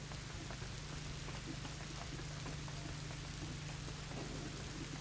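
Steady, faint rain in the video game A Plague Tale Innocence, an even hiss of drops falling throughout with a low hum beneath it.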